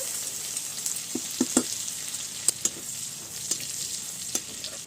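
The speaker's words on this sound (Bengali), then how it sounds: "এবার আমি শুকনো লঙ্কা আর 5 ফোড়ন দিয়ে দিচ্ছি। দিচ্ছি রসুন থেতো" Dried red chili, Bengali five-spice and crushed garlic crackle and sizzle in hot oil, a steady close hiss dotted with sharp pops and spits, cooked for a Bengali elephant-foot yam stalk dish.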